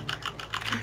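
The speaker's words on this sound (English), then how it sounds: "George, your keyboard is so loud." Loud computer keyboard typing during a Rainbow Six Siege gaming session, rapid uneven keystroke clusters clattering close and steady throughout, with no one speaking.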